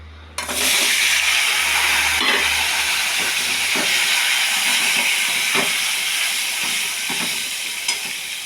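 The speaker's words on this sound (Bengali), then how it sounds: "এবার হচ্ছে আলুগুলি ভেজে নেব।" Potato pieces coated with turmeric and chili powder hit hot oil and set off a loud, continuous sizzle. The hiss is close and steady, with faint scrapes of stirring underneath.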